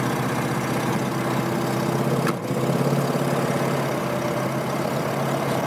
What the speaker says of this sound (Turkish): Bak böyle rolantideyken İşte bu rölanti sesi,